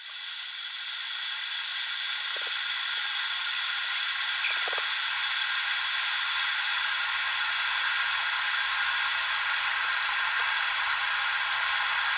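Steady broadband hiss and rushing noise of a Zepline ZP-106 electric thermo kettle heating water, constant and fairly loud throughout, with a few faint clicks early on.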